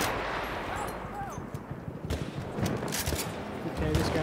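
Battlefield 1 battle with rapid gunfire and scattered shots crackling throughout, dense and fairly loud, with distant booms and a chaotic multiplayer war soundscape.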